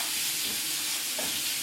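Chicken sizzling in a skillet, a dense, loud, continuous frying hiss that holds steady throughout the short stretch with no voices.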